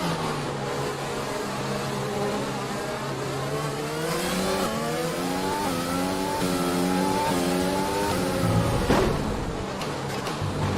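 An F1 car in F1 2020 accelerating hard out of a corner with its wheels losing traction, the engine note rising and wavering through repeated upshifts, loud and close.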